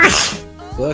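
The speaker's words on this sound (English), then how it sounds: "I keep sneezing." A single loud, sharp sneeze bursts out close by, followed a moment later by the start of a voice speaking.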